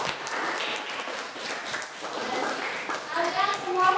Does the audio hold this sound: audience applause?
yes